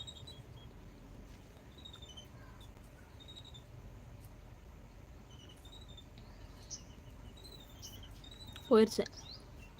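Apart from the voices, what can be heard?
sparrows chirping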